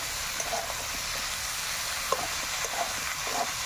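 Eggplant and potato pieces stirred in a hot spice masala give a steady close sizzle, with soft scraping clicks from the spoon. There is no talk.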